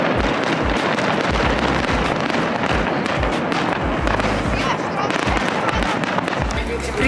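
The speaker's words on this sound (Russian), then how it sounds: "Прикиньте, сразу после этого шоу вот такой салют." Dense, continuous crackling and booming of a Dubai fireworks display bursting rapidly, loud and close, with a steady roar of popping throughout.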